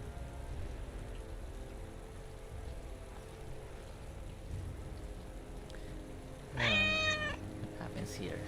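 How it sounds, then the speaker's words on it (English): A cat in the Dragon Age video game gives one short, clear meow near the end, standing out over a quiet ambient bed of soft rain-like game noise. "There's a cat."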